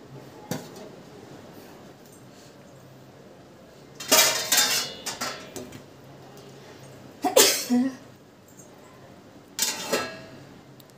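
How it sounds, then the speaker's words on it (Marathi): Pots and dishes being scrubbed and knocked together in a home kitchen, a few separate bursts of clattering metal and scraping at moderate loudness between quieter stretches, with a faint low hum underneath. "तोपर्यंत आता भांडे घासून घे."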